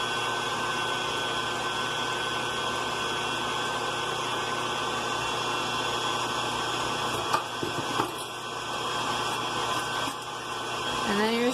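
Electric mixer whipping vegan marshmallow fluff on high speed, a steady loud motor whir with a constant buzzing hum, brief knocks near the end as the beaters shift in the bowl.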